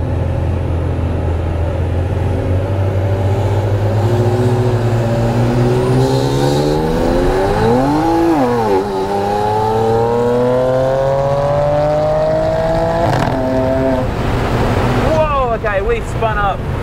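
A turbocharged BMW 335i with the N54 engine launches off brake boost in a roll race. The loud engine rises in pitch through the gears with sharp shift breaks and another surge near the end.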